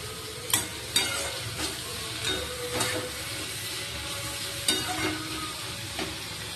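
Mixed vegetables sizzle steadily in a pan with salt, turmeric, chili and cumin powder while a spoon stirs them, giving a few clear clinks and scrapes over the constant frying hiss.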